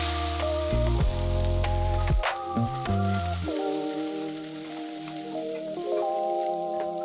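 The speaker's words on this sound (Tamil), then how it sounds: "வெங்காயம் வதங்கும்போது 2 தக்காளி பழம் எடுத்து கட் பண்ணி சேர்த்துருக்கேன்" Onions and chopped tomatoes sauté in a pan for Chettinad-style okra mandi, a soft, steady sizzle running beneath prominent melodic background music.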